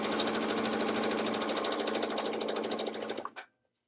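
A sewing machine rapidly stitching strip-pieced quilt fabric, a close steady fast whirring chatter that runs for about three seconds and then winds down and stops.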